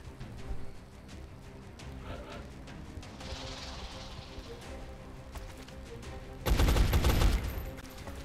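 Scattered gunfire in the video game XCOM sounds through a busy background, then a loud, dense burst of shooting erupts about two-thirds of the way in and fades after roughly a second.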